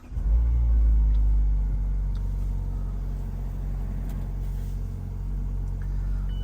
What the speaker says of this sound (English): Let's crank this up real quick.